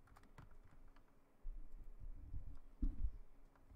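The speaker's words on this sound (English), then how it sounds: "Sorry if you can hear my keyboard" Computer keyboard keys click softly and irregularly during a flight-simulator session, with a few heavier key thumps near the end and no talk.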